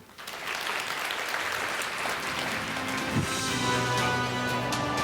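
An audience of tax accountants and accountants applauds after a lecture, a sustained burst of clapping that starts abruptly and holds steady, filling the hall at close range.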